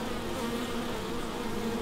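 Honeybees at an open backyard hive in Southern California hum in a dense, continuous buzz, close and steady.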